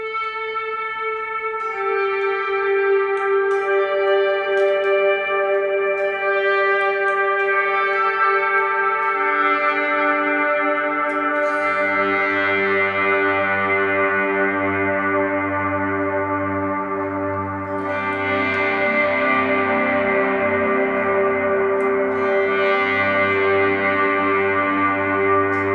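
Electric guitar through a worship pedalboard with overdrive and reverb pedals, playing long sustained swelling chords that bloom into a thick, washy reverb tail, with a fresh strummed swell midway, loud and continuous with no talking.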